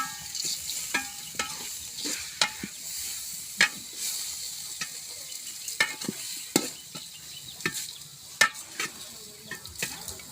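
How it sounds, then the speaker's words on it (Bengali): Khichuri of rice, lentils, chickpeas and potato cooking in a pot over high flame, with soft sizzling hiss and repeated sharp scrapes and taps of stirring, moderately close. "খিচুড়ি রান্না শুরু হয়ে গেছে"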